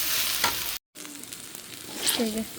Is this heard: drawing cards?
no